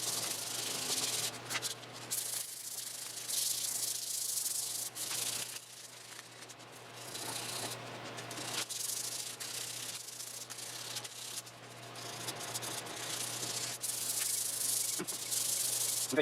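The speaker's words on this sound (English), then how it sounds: "I'm just gonna sand this puppy down" Steady, soft scratchy rubbing of 320-grit sandpaper on a wooden shotgun stock, repeated back-and-forth strokes continuing quietly and evenly with no talking.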